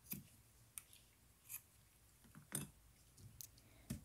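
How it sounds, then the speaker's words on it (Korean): Scissors snip leftover weaving thread in several quiet, separate cuts, each a crisp close-up click spaced about a second apart in a hushed room. "그러면 먼저 붙여놓았던 날실의 끝과 길이를 맞춰서 남은 실을 잘라줍니다."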